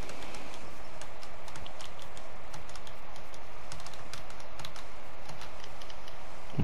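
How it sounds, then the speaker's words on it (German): Rapid keystrokes on a computer keyboard while playing Minecraft, with dense clustered clicks and short pauses, close and fairly crisp, continuing steadily with no speech. "Man hört wahrscheinlich im Video wieder dezent meine Tastatur"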